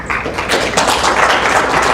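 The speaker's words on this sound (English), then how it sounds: "give a big round of applause to the freedom fighters of Palestine" A large audience at an Islamic youth conference applauds the representatives of Palestine, a dense, loud, steady wash of clapping that fills the whole moment.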